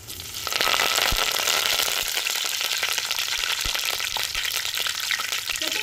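Mustard seeds, fenugreek and curry leaves sizzle loudly in hot oil, a steady close frying hiss broken by sharp pops and crackles throughout, with no talking.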